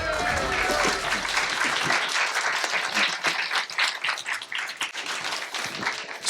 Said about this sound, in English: Okay, round of applause for our 3 heroes